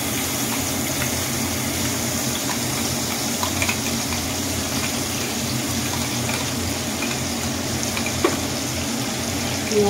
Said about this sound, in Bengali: তেলটা গরমই আছে। এবার পেঁয়াজ বাটা দিয়ে দেবো।